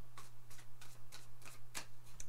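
A deck of tarot cards is riffled and shuffled up close in a quick, regular run of crisp flutters, about eight bursts in just over two seconds over a low steady hum.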